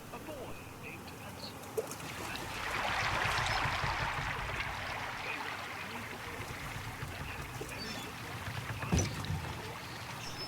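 Swan-shaped pedal boat gliding across water in the horror video game The Park, with a steady wash of lapping, splashing water and a low ambient rumble running continuously throughout.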